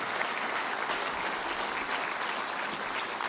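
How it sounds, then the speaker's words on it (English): A crowd at a ceremony in Rome applauds Prime Minister Meloni. The clapping is dense and sustained, holds an even level throughout and has no voices over it. "Applause for Prime Minister Meloni."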